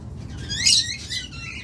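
A pair of blue masked lovebirds gives a few short, high chirps close by, loudest in the middle, over a low steady background rumble.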